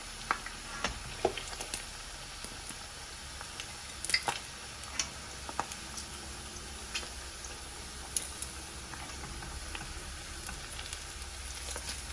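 Salt and pepper ribs frying in oil in a pot, a continuous close sizzle with scattered pops and crackles and occasional ticks of spitting fat.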